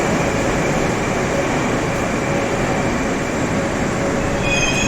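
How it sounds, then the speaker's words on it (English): A long, modern train of about six carriages rumbles past loudly and steadily, its wheels holding a constant roar with thin, sustained squealing tones and no voices. "This looks like one of these modern trains."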